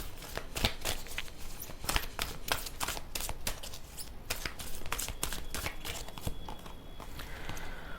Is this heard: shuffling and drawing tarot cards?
yes